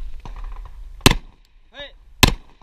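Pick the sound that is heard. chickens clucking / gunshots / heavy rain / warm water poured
gunshots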